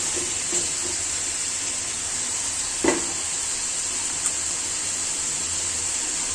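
Coral fish pieces fry in hot oil with onion, garlic and ginger, a steady bright sizzle throughout with a few soft clinks and stirring knocks, close by and without talk.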